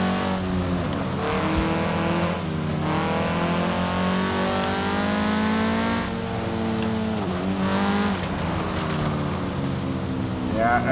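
A 2015 Audi TT S Coupe with a race build in Forza Horizon 4 drives downhill, its engine rising and falling through gear changes as it brakes, the tone sweeping down and back up, steady and close, with someone talking over it.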